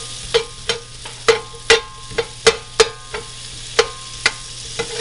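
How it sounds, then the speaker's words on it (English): Onion and garlic sautéing in a pan, a quiet sizzle punctuated by about a dozen sharp, regular scrapes and taps of a utensil against the pan, close and alone. "we're going to add the rest of our onion and the rest of our garlic. We'll let that saute for a minute."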